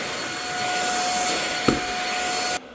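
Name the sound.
handheld stick vacuum cleaner on hardwood floor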